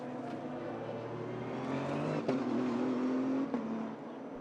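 LMP2 prototype race cars passing at Le Castellet, engines droning and rising in pitch as they approach and sweep by, with sharp gear-change blips, fairly loud and steady.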